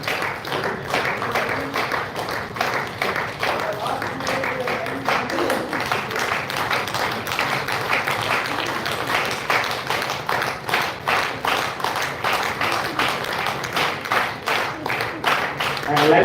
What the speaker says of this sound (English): Have a huge round of applause for Mr.